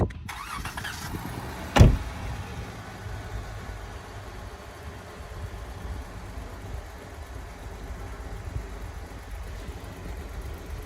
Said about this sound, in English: New terrain for this Jeep. First time the Jeep's on ice.